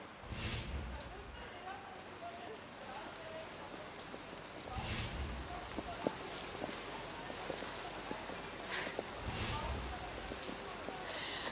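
Heavy rain pours down in a steady, dense hiss that runs throughout, with brief deeper rumbling surges, during a rainy-day news report after days of drizzle; a voice may be faintly present beneath the downpour.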